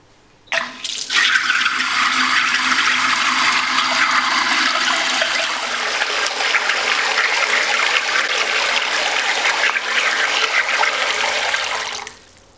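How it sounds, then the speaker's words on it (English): Water gushes steadily into a brewing hot liquor tank fitted with a heating element, temperature probe and HERMS coil, a loud close rushing pour lasting about eleven seconds before cutting off, with no talking. "I'm just going to fill it up with water to make sure that the heating element and the temperature probe are immersed"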